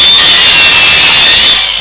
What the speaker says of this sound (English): So I just simply grind them off.